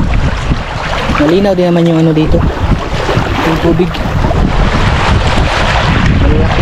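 Strong sea wind roars against the microphone out on the water, a loud steady rush with gusts, while someone talks over it briefly.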